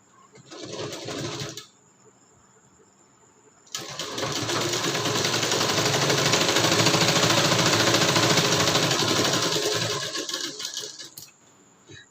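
Sewing machine stitching the cup seam of a katori blouse: a short, steady whirring run, a pause, then a long continuous loud run of rapid stitching that stops abruptly.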